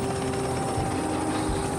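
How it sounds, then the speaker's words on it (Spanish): Helicopter flying, a 1939 Sikorsky test flight, its steady rotor and engine drone continuous and fairly loud throughout, with no voices. "Este es Igor Sikorsky a los controles en su primer vuelo de prueba en 1939"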